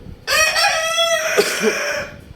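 A single loud silkie rooster crow close by, drawn out and full, followed by a couple of soft clucks.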